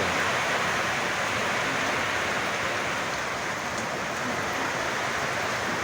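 Steady, dense rain pours down without pause, a constant hiss throughout with no voices.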